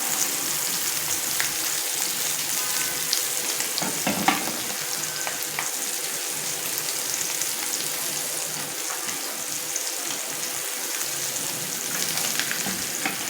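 Chicken steak with garlic fries in a pan over a medium flame, giving a continuous close sizzle and crackle with scattered small pops throughout.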